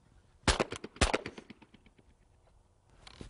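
Two sharp shotgun blasts about half a second apart on a skeet doubles round, loud and close, each followed by a short fading echo, then quiet outdoor ambience.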